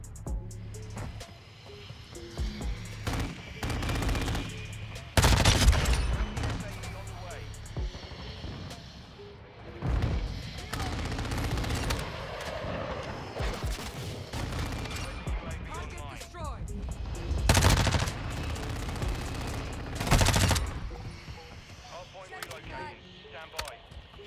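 Gunfire from the Lachmann Sub in Modern Warfare 2, several sharp bursts spaced through the stretch amid game noise, with someone talking over much of it.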